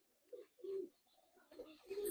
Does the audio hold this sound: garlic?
no